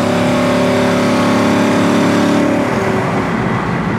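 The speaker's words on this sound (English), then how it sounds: "Man, it shifts great, don't it? That does. Beautiful shifts. Look how nice it goes down the road." A 1969 Oldsmobile 442 V8 pulls hard on the road, its engine note climbing in a loud, close growl before dropping as it shifts to the next gear.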